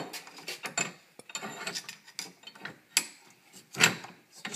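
A bench vise being adjusted to straighten a warped hookblade, giving a series of close, irregular metallic ratcheting and rubbing clicks with short pauses between them.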